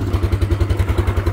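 A power bike engine runs in the snow at Manali, giving a close, steady chugging of low, regular thumps with no voices over it.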